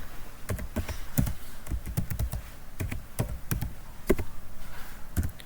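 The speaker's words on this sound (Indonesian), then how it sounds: "Jadi kita langsung ketik cd dokumen." Rapid, uneven keystrokes on a computer keyboard as a Linux command is entered, close and crisp with irregular clusters of taps, no voices.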